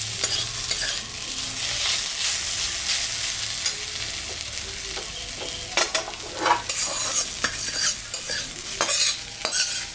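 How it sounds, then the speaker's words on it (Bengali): Gima greens are stir-fried in a pan as a vegetarian dish, a continuous soft sizzle broken by repeated scraping and clattering strokes of a spatula that grow busier toward the end, close by and with no talking. "আমি গিমা শাক ভাজা রান্না করলাম।"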